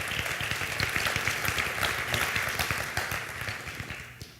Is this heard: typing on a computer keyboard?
no